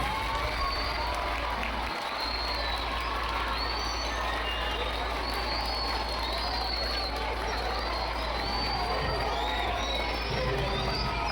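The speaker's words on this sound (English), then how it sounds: "A round of applause." A school audience at a high school cabinet installation ceremony applauds and cheers, a steady crowd din of clapping mixed with children's shouts and chatter, heard somewhat distant and filling the whole span.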